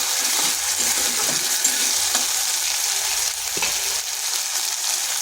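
Ginger and garlic frying in a pan for a jackfruit curry, a constant bright sizzle with occasional soft stirring clicks, close and steady throughout without any talking.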